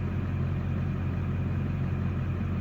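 An LB7 Duramax diesel engine running at normal operating temperature, with suspected injector trouble, a steady low idle rumble close by with no voices.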